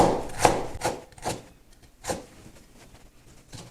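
A kitchen knife chops on a cutting board as ginger is sliced and scallion whites are smashed, giving about half a dozen sharp, irregular knocks at close range, fairly quiet, with no talking.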